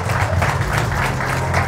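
Steady, dense applause from an audience at a 2024 graduation ceremony fills the moment, with no voices standing out above the clapping.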